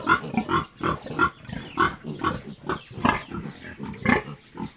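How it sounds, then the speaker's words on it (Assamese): An angry sow with piglets on a pig farm in Assam gives a rapid, steady series of loud, close grunts, about two per second, with no talk over them. "গাহৰিজনী খঙাল আছে ন"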